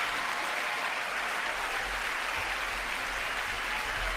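A large audience in a legislative chamber claps during a State of the Union address, a dense, sustained wash of applause with no break throughout.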